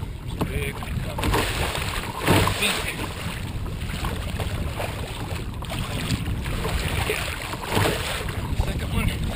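Surf breaks around a kayak near offshore sandbars, giving rushing, hissing wash and repeated swells under heavy wind buffeting on the microphone, fairly close and continuous.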